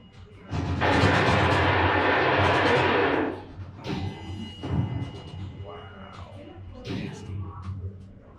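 Loud, sustained burst of Tommy gun fire lasting about two and a half seconds during the 1929 St. Valentine's Day Massacre against a brick wall, followed by scattered thuds and quieter commotion.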